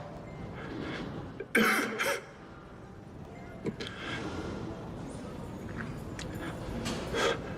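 A single sharp cough rings out in a quiet, faintly noisy room, with a few softer throat sounds afterward.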